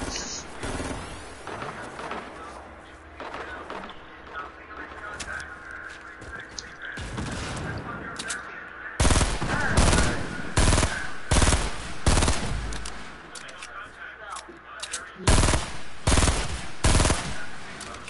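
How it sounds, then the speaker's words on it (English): Shotgun fire in a video game: scattered shots early, then loud, sharp blasts in quick clusters through the second half, each booming burst close and dominant. "That is shotgun."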